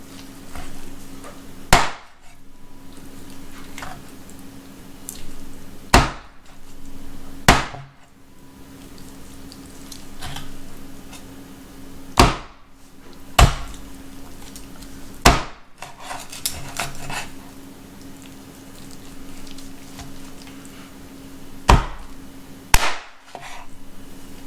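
A knife chops through raw chicken and bone on a board: about ten sharp, loud, solid whacks at irregular intervals several seconds apart, with quiet handling noise between strikes.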